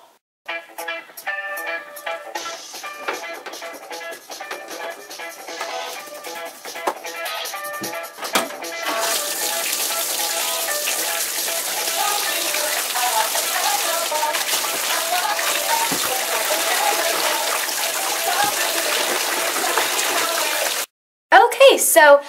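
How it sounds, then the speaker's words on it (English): Bath water runs into a tub with a crumbled Lush Christmas Eve bubble bar, a steady loud rushing splash that starts after some brief clatter and continues almost unbroken before cutting off near the end. "then put the bath water on and swish it around"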